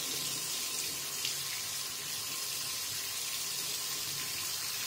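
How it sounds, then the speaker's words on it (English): Water running steadily from an opened tap, a constant close splashing rush with no voices. "Let me open water."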